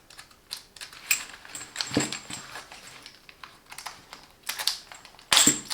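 A key turning in a Crivit bike chain lock with a fabric-coated chain and plastic housing, heard up close as scattered faint clicks and plastic rattles, ending in a louder mechanical click.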